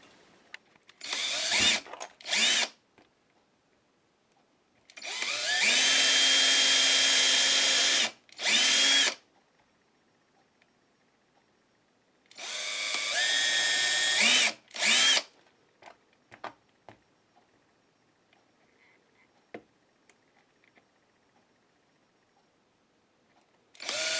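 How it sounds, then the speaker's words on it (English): A power drill whirs loudly in two long bursts plus a few shorter ones, separated by quiet pauses, close to the listener. "I'm going to bring my drill in and drill holes there"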